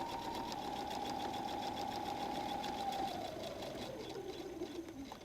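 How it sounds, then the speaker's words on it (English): A sewing machine running a back stitch across the top of a pocket flap on a messenger bag: a close, steady mechanical whir with rapid needle chatter, slowing and dropping in pitch near the end, no talk. "And I start to sew again, back stitch."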